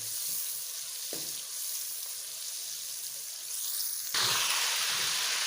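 Ingredients brown in a frying pan for a pumpkin and chicken dish, a steady hiss of sizzling that surges louder near the end as more goes in, with a light stir knock and no talk.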